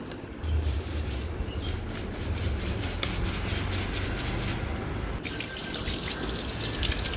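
Rice being rinsed clean under running water in a home kitchen, a steady close rushing and swishing of water with rubbing grains throughout, turning brighter and splashier near the end, with no talking.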